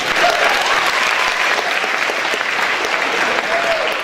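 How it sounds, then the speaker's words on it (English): Loud, continuous crowd applause at a 2013 male pageant, many hands clapping in a dense steady roar, applauding a contestant's pajama pants, with faint voices and a few whoops mixed in. "Can we get a round of applause for these pants?"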